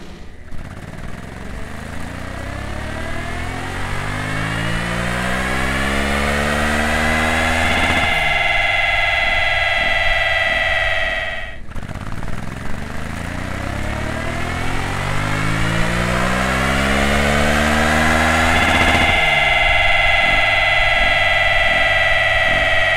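Yamaha Ténéré motorcycle engine on a dyno during remap testing, revving up in two long sweeping pulls with rising pitch, then dropping back to a rough idle between runs, loud and close with no talk.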